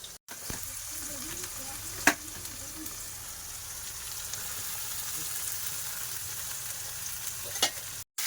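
Chopped onion fries in a small amount of oil, giving a continuous, even sizzle that holds steady throughout. A couple of faint utensil clicks break through, and it briefly drops out at the very end.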